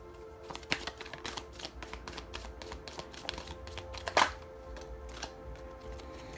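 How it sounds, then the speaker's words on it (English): Tarot cards shuffled by hand at a reading, a run of soft, quiet riffles and taps that fall in an irregular rhythm, with one sharper snap near the end and no voice. "as I'm shuffling"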